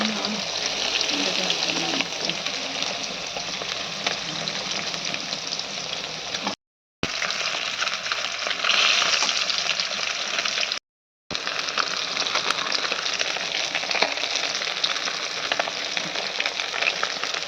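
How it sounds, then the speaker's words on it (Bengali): Bhetki (barramundi) fish frying in a pan in a Bengali village kitchen gives a loud, steady, close sizzle that runs almost continuously, broken only by two brief cuts. "আর এদিকে ভেটকি মাছটা ভাজা হচ্ছে।"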